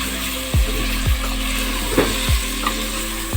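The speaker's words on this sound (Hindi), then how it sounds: "नमक डाल के गोश्त को फ्राई करेंगे।" Meat frying with salt in a pot for aloo gosht, a steady close sizzle with several louder bursts as the pieces are stirred, no voices.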